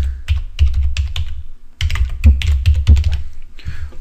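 Computer keyboard typing a short text phrase into Photoshop, with rapid clustered keystrokes in two bursts separated by a brief pause, close and fairly loud with no voices.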